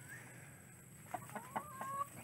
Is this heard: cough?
no